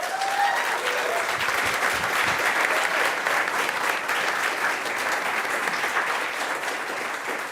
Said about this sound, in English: give a big round of applause to our panelists